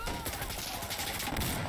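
Rapid gunfire from the video game Insurgency Sandstorm rattles densely through the whole stretch, loud and continuous, with a voice briefly calling out over the shots.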